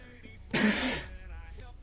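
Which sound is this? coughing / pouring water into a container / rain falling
coughing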